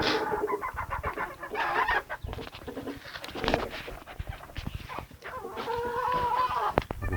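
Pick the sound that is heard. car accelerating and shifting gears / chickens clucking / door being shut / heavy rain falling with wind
chickens clucking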